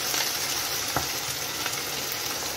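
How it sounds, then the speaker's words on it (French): Tomato coulis goes into a sizzling pan holding shallot and purple artichoke, giving a steady broadband fry hiss with a couple of soft stirring knocks, close and continuous with no talk. "maintenant, vous allez rajouter le coulis de tomate"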